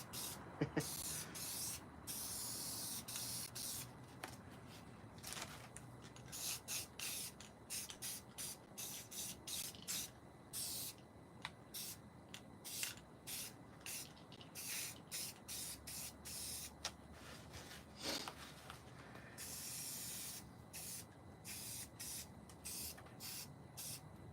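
Spray paint cleaning up overspray on a carving, short hissing bursts from an aerosol can that repeat irregularly, close and crisp against a quiet background.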